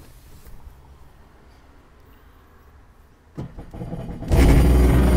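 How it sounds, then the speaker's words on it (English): A jet ski engine cranks and catches while being flushed with water; a quiet stretch gives way to a sudden start, and it settles into a loud, steady, close idle. "You need to turn on the engine first before you let any water go through it."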